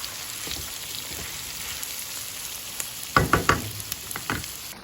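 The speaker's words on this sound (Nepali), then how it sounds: "यहाँ चाहिँ म प्याज फ्राई गर्दैछु।" Onions frying in a pan for biryani give a steady, close sizzle, with a few sharper clattering stirs in the middle and no voices.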